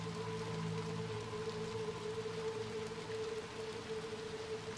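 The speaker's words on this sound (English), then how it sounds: "Now we're back outside. It's raining." Steady rain falls outdoors in the Little Nightmares II video game, a continuous even hiss of drops under a low droning game ambience, with no talking.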